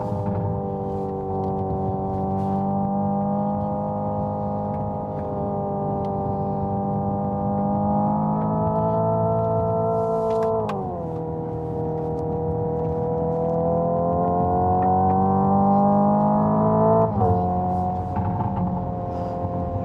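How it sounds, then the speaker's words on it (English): A 2025 Hyundai IONIQ 5 N electric car drives with its synthetic engine sound at maximum, a loud, sustained droning engine note that rises steadily and then drops at each simulated gear shift, with no talking. "I will leave you with a little bit of driving here."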